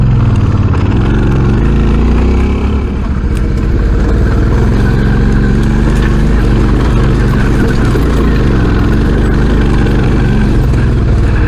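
Suzuki V-Strom 650 motorcycle ridden along a rough basalt track, its engine droning steadily and loudly throughout with constant wind and road rumble, no voices over it.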